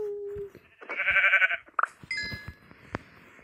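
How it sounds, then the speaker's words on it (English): Sheep in Minecraft bleating: a short burst of harmonic, wavering bleats near the middle, amid other game noises and brief tones, with no talking. "I'm gonna get a white sheep."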